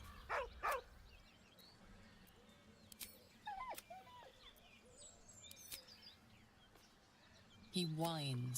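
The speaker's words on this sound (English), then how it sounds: "He whines, but remains rooted by the corpse's side." A companion dog whines softly beside a corpse in Baldur's Gate 3, a few brief high whimpers amid ambient game sounds, ending in a louder rising whine.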